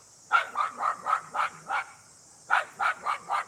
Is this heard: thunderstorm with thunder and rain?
no